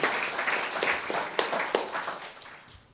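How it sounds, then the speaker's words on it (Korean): Audience applause at an academic conference on international cooperation for peace on the Korean Peninsula: a dense wash of clapping with a few sharper claps, gradually fading out over a few seconds. "다시 한번 우리 힘찬 박수 부탁드리겠습니다"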